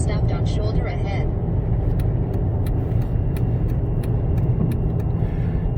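A 2014–2015 Dodge Avenger cruising on a highway fills the cabin with a steady, loud, unbroken rumble of engine and tyre-on-road noise.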